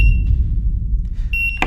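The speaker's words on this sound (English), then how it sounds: "Why is it beeping?" A prop bomb device gives off short high electronic beeps, one at the start and another near the end, set against a steady low rumble of background noise.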